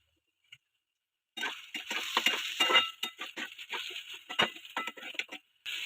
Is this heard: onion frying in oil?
yes